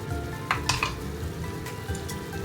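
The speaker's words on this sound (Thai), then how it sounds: "แล้วพยายามคนตัวมันเทศนะคะ เพื่อที่ว่าให้เข้ากับตัวซอสคิโคแมนค่ะ" Sweet potato pieces fry in oil for Japanese daigakuimo after Kikkoman soy sauce is sprinkled in, a steady sizzle with a few scraping stirs of a utensil in the pan.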